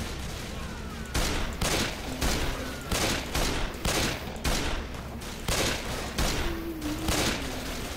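Gunfire in modded Left 4 Dead 2: rapid repeated shots in several bursts across the whole stretch, loud and close, with only faint game sounds between them.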